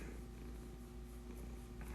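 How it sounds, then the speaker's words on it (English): A cat named Trouble purrs loudly and steadily close by, a continuous low rhythmic rumble with no voices over it. "he is purring very loudly right now and enjoying this"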